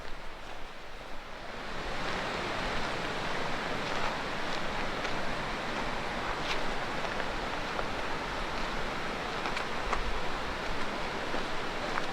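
River water near Snoqualmie Falls rushes in a broad, steady roar, loud and constant from start to finish, with a brief quieter moment at the very beginning and no voices.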